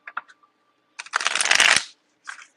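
Tarot cards being shuffled by hand: a few light taps and flicks, then a dense, riffling burst of card shuffling lasting about a second, followed by a short final flutter, close and alone.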